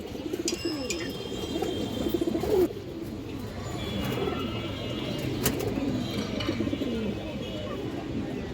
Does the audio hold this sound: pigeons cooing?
yes